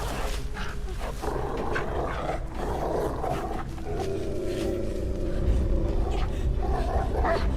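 Dogs barking and snarling during a police chase in the video game Beyond: Two Souls, a loud continuous roar of growls and barks over dense game noise, with a voice talking faintly in the mix.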